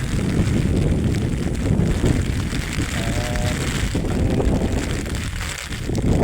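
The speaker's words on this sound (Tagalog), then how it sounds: "Malakas na po ang ulan. Medyo nalakas na rin ang hangin." Steady roar of strong wind buffeting the microphone, with a broad wash of heavy rain as a typhoon approaches in Quezon, Philippines, continuous and loud throughout.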